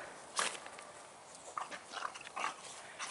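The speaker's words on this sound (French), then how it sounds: "C'était donc une petite vidéo de le chien de Tafaland" A dog moves about, its footsteps and scuffling broken by a few short, soft whimpers and yips, close by with no talking.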